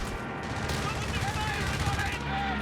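Gunfire from an aircraft strafing run in the Company of Heroes 3 strategy game, a dense rattling burst of rapid shots and explosions under continuous talk from a commentator.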